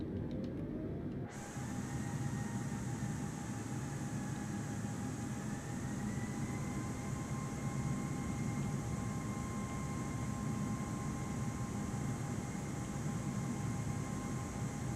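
An aircraft reverses on the ground in the Microsoft Flight Simulator game, its engine a loud, steady, unbroken drone with a whining tone that rises early on and then holds, with no voices.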